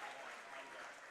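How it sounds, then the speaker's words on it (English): A hometown London baseball crowd applauds the first pitch thrower before an IBL playoff game, steady broadband clapping spread across the stands for the whole moment. "Getting a nice round of applause from the hometown London faithful"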